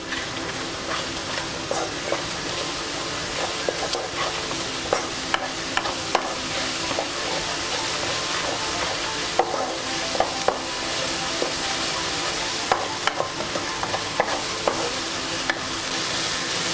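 Masala with garam masala fries in a pan, a continuous sizzle and hiss with repeated scraping stirs and clinks of the utensil against the pan, steady and close throughout, with no talking.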